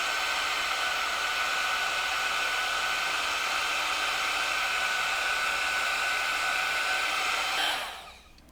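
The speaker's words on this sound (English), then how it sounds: "This heat gun will help with that." Heat gun blowing steadily on the foam of a 3D puff embroidered hat, a continuous close whooshing whine that cuts off near the end.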